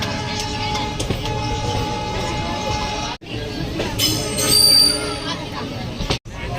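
A passenger train rolls on the rails near Delhi Cantonment station as it heads for platform 1. A loud, steady rumble with metallic clinks runs throughout, broken by two short dropouts, and faint voices can be heard beneath it.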